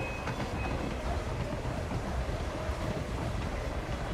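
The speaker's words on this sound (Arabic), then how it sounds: "اتوقع هاي بتفصل الترين." Train cars roll along in Hitman 3 with a steady, dense rumble and rushing wind noise, continuous and fairly loud throughout without pauses.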